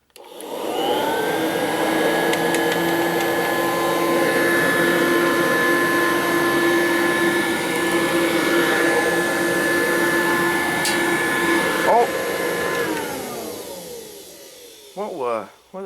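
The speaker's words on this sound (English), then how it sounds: "So, here's me vacuuming the D80." A Kirby D80 upright vacuum cleaner runs with a loud, steady motor whine throughout, shutting off near the end, followed by a few brief bumps.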